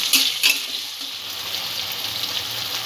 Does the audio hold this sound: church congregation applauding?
no